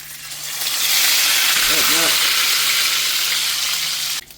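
Chicken fried steak fries in a pan with a steady, loud broadband sizzle that builds and holds, a few soft clinks in the middle, then cuts off abruptly near the end.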